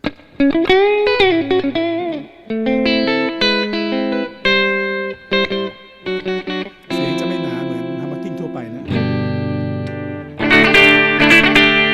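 Electric guitar played clean on the middle pickup in a series of melodic phrases and strummed chords, bright and ringing with some reverb, no voices.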